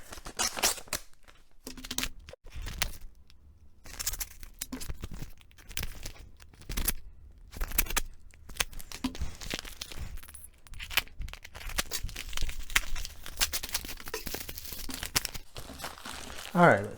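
Paper envelopes holding stamp mixtures are torn open one after another, with crinkling, ripping and rustling in irregular bursts close by over about seventeen seconds.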